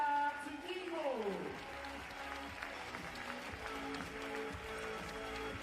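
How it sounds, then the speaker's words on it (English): Crowd applause fills an indoor athletics arena at the Meeting Metz Moselle Athlelor in France, a dense steady clatter of clapping sustained throughout while an announcer talks over it. "Applaudissements pour la Bretonne, Agathe Guillemot."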